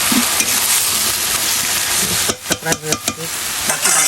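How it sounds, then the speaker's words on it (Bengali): Red amaranth greens fry in oil in a pan with a loud, dense sizzle, then a few clattering stirs and scrapes break through before the crackle resumes. "লাল শাক অল্প একটু ভাজি করতেছি লাল শাক"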